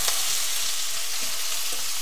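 Mustard seeds, fennel, beans, carrot and onion fry together in a hot pan, giving a steady, close, dense sizzle and hiss with no talking.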